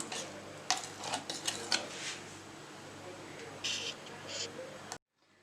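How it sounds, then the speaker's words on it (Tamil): Homemade Nutella is scraped from a blender jar into a container with a spoon, giving soft sticky scrapes and a few light clinks, close, with a voice talking over it. "இப்போ நம்ம நியூட்ரெல்லா ரெடி ஆகிடுச்சு. ஒரு கண்டெய்னருக்கு ட்ரான்ஸ்ஃபர் பண்ணிக்கலாம்."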